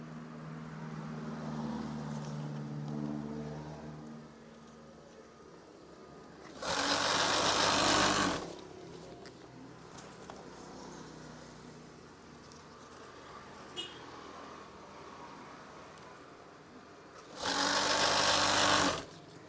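A sewing machine stitches curtain fabric in two loud, steady runs of about two seconds each, separated by a long quieter stretch of room noise with a low hum.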